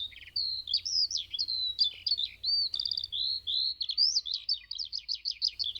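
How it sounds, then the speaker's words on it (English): Recorded birdsong plays back from a phone identification app: a rapid, continuous string of high warbling and trilled chirps, clear and fairly close, with a low hum underneath. "you just click on the song and you can listen to the song of a bird."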